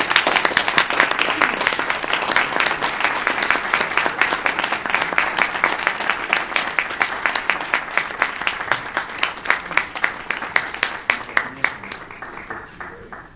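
An audience applauds to welcome honorees, loud dense clapping that holds steady for over ten seconds, then slowly thins and fades with a few lingering claps.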